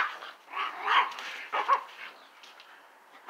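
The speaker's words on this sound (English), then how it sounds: "The noisiest dog is the smallest one." A small Chihuahua yaps in a quick run of high, sharp barks, loud and close, that fades toward the end during a play fight with larger dogs.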